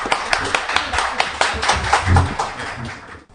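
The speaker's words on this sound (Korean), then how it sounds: "여러분 박수 주십시오" A studio audience clapping to welcome a guest on a talk show, a short burst of close, loud, uneven applause.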